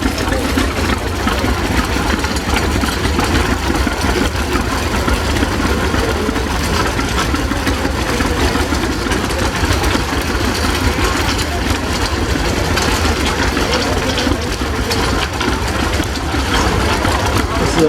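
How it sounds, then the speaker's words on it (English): A 1941 John Deere B tractor fitted with a number 26 rear loader idles at a steam and gas engine show in Baraboo, Wisconsin. Its loud, steady, low chugging runs throughout while an announcer talks over it. "This is a 1941 John Deere B with the number 26 rear loader"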